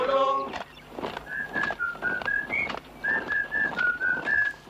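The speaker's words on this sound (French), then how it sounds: "Voilà, ça sifflote comme dans Blanche-Neige et les 7 nains" A person whistles a cheerful tune like the Snow White dwarfs' song, a clear melody of repeated high notes in two short phrases, close and alone after a brief sung bit at the start.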